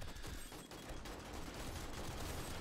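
Gunfire from a firing squad in the video game 7 Days to Die rattles nonstop during a bunker horde night, a dense, unbroken wash of distant shots held at a low, steady level.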